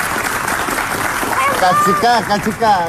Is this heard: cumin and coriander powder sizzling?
no